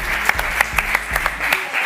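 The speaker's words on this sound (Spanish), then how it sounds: "un aplauso para ellos" Studio audience applause for the singers Aitana and Sebastián Yatra, a steady close burst of clapping with a few sharper accented claps, fading out near the end.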